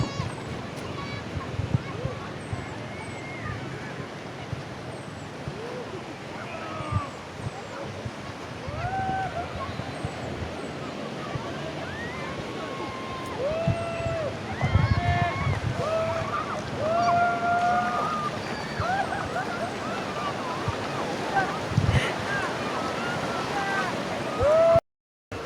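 Sea waves washing onto a beach in the late afternoon, a steady rushing surf with wind buffeting the microphone and people talking over it throughout.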